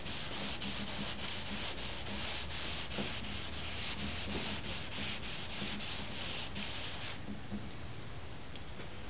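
Steady rhythmic rubbing of sandpaper by hand across a carved wooden SR-71 model, close and continuous with repeated back-and-forth strokes, slightly softer toward the end, with no talking.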